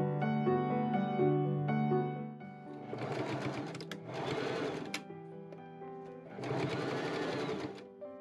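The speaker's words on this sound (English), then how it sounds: "And I machine sew that all up." Electric sewing machine stitching tartan flannel jacket pieces, an Edwardian-style garment, in three sustained whirring bursts separated by short pauses, heard up close with a steady tonal hum underneath.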